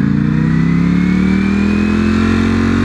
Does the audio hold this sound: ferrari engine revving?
yes